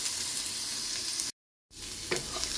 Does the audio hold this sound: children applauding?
no